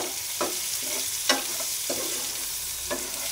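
Onion, tomato and green chilli fry in a pan with a soft, steady sizzle, broken by a few short scrapes of a spatula stirring.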